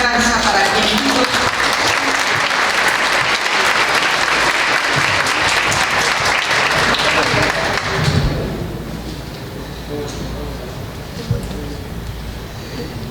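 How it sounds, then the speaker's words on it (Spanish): Audience at a judicial reform conference in Mexico applauding loudly as a magistrate is welcomed, dense clapping for about eight seconds that cuts off into a quieter room with a thump and faint voices. "Recibamos con un fuerte aplauso"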